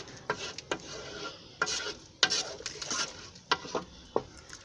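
Coconut rice with seasoning cubes is stirred in a pot, a spoon scraping and clinking in short irregular strokes with soft sizzling between them, close and fairly quiet.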